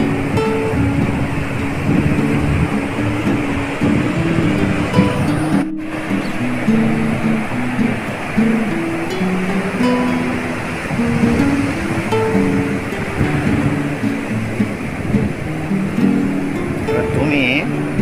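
Sea waves wash up the beach at Henry Island, a continuous close roar of surf rolling in to the shoreline, with voices faintly talking in the background.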